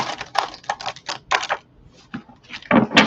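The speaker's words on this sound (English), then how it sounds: "Let's do one more good shuffle." Tarot cards being riffled and shuffled in quick bursts of papery clicking, with brief pauses between the shuffles, close by.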